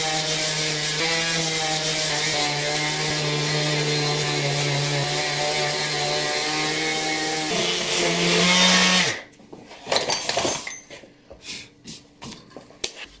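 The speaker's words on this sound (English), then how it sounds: "I'm just going to sand off the little edges here" A power sander smooths the little edges of a homemade deadlift jack's handle, a steady droning whine running close and loud for about nine seconds before cutting off, followed by a few scattered knocks and handling clatter.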